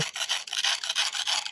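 Brisk, rhythmic scrubbing of a stiff brush in detergent water, repeated rasping strokes close up with no talking.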